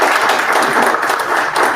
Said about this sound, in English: So please clap it up for them real quick.